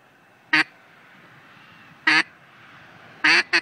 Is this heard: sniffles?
no